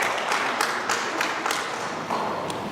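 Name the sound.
round of applause for Benjamin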